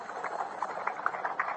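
Horse hooves clip-clop at a steady trot, a radio drama sound effect for a great black horse passing on a road; the hoofbeats sound moderately near but soft and slightly muffled, with no talk over them.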